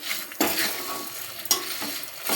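Coconut pieces frying in a pan for coconut chutney, a steady close sizzle with sharp stirring scrapes and clinks at a few points, no talking.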